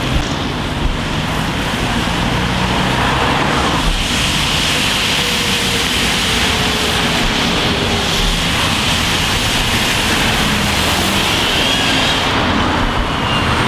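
A double-decker bus pulls in at a Basingstoke stop, a steady broad engine and road rumble filling the scene with wind-like noise, no talk over it.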